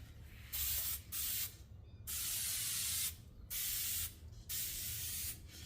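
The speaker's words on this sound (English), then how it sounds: "You have to spray both sides because the adhesive actually glues itself to itself." Repeated bursts of spray adhesive hissing close up from a spray can, five or so long sprays separated by short pauses.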